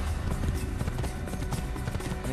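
A horse gallops in the Assassin's Creed video game, its hoofbeats a rapid, loud clatter over a dense, busy game soundscape.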